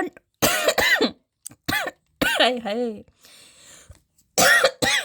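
Several harsh coughs and throat clearing come in short bursts, interleaved with a voice speaking briefly between them.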